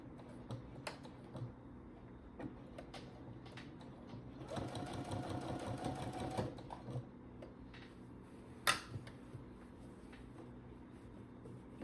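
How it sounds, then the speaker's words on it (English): A sewing machine stitches a tote bag at close range, steady whirring runs with short pauses and back-stitching bursts, plus a few sharp clicks and handling knocks. "I'm going to sew this together here. I'm gonna take my time here, line up everything. Make sure I back stitch a few times."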